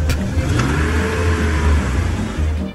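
A police squad car pulls away, its engine revving and accelerating in a loud, close, rising whir that holds for a few seconds before cutting off abruptly.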